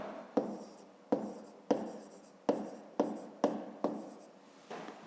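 Handwriting with pen on paper, close and quiet: seven or eight short scratchy strokes, each starting sharply and trailing off, spaced about half a second to a second apart.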